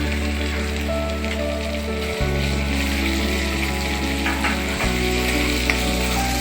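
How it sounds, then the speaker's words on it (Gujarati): Finely chopped onion fries in oil with cumin, asafoetida, ginger and green chilli, giving a dense, continuous sizzle close by, with a few faint stirring knocks and no talk. "એમાં આપણે ડુંગળીને પણ ફ્રાય કરી લઈશું"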